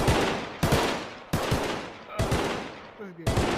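Gunshots at a virtual shooting range in VRChat, five loud single shots spaced roughly half a second to a second apart, each with a sharp crack and a decaying tail, with no voices during the shots.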